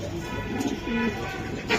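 A female racing pigeon at a pigeon club gives faint, low cooing under a steady background hum.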